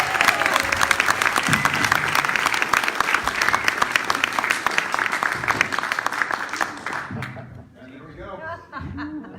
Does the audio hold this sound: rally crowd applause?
yes